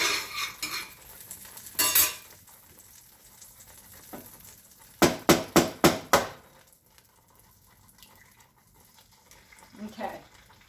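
An egg is set into a pan on the stove with a quick burst of close clatter and taps, and softer scrapes and sizzling sound before and after.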